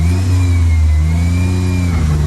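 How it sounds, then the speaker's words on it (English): A Mitsubishi mini truck's engine revs up loud and close as the clutch is let out, a rising and falling mid-pitched drone with throttle changes and no talking. "Now slow, a little more gas, and let out the clutch easy."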